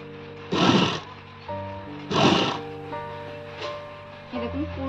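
Sewing machine running in two loud bursts of rapid stitching with pauses between, making a pressed edge seam on net saree fabric cut for a long gown, with a voice talking in between and faint further machine sounds near the end.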